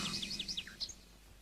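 A yellow parrot gives a run of short, bright chirping calls, several quick tweets in a row followed by a couple more, fairly faint against a quiet outdoor background.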